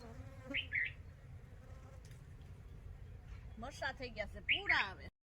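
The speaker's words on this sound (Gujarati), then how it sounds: "કેવી મસ્ત મજાની મધમાખીઓ જો રસ ચૂસે છે" Honeybees buzzing as they gather nectar from flowers on a farm, a faint, wavering hum near the microphone, with bird chirps and brief vocal sounds over it.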